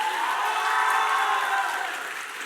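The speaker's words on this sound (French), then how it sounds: "On demande d'applaudir là bien fort." Steady, dense applause from a large crowd at a semi-final competition, sustained and loud, easing slightly toward the end.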